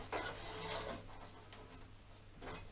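A tapered collet being tightened up into the shaft of a homemade motorcycle spring compressor, giving a faint, steady mechanical grinding and rubbing with a few brief ratchet-like clicks near the end, heard alone.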